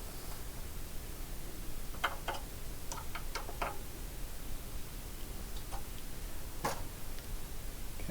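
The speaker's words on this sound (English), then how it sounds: "just tightening the Allen bolts from underneath" An Allen key tightens bolts from underneath a table while a Zoje coverseamer is installed, giving faint, sparse metallic ticks and clicks close by over steady background hiss, with no talking.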